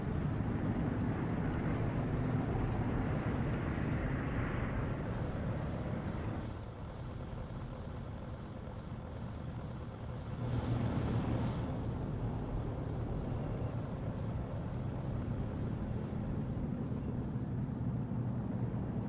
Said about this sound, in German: Panzer vorwärts! Marsch!